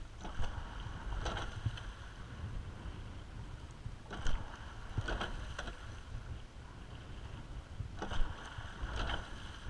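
A crew paddling a rowing boat on open water, with three clusters of splashy paddle strokes spaced a few seconds apart over steady wind and water noise.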